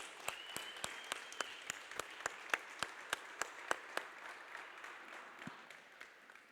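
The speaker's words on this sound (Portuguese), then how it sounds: "Salva de palmas para Jesus." A church congregation gives a round of applause during a Sunday service: steady, rhythmic claps that keep an even beat for several seconds before thinning out, set against a soft room backdrop with no talking.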